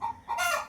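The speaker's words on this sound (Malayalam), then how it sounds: "എടാ കോഴിയാടാ, കോഴി." A chicken gives a short, close two-part cluck, lasting under a second.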